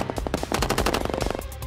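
Guns fired into the air rattle off in rapid automatic bursts, a dense run of sharp cracks with some overlapping shots, loud and fairly close.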